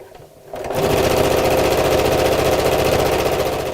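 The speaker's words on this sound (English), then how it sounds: "I'm just going to sew down both sides" Close and loud, a sewing machine runs at a fast, even rhythm as it stitches down both sides of denim bag handles, starting after a brief quiet moment and continuing steadily.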